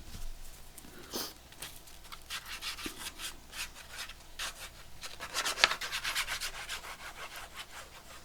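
Hand rubbing and pressing paper down onto a junk journal cover, close-up soft scraping and swishing strokes in an irregular rhythm, fairly quiet with no talking.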